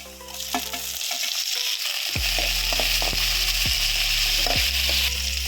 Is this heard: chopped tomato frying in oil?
yes